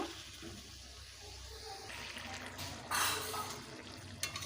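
Water is poured into a cooking pot of fried soybean and potato, a steady faint splashing and trickling that swells briefly toward the end.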